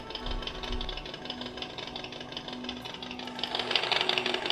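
A small toy Harley-Davidson Fat Boy motorcycle motor whirs and buzzes steadily, its pitch shifting as it runs up through gears, with a rattly mechanical edge throughout.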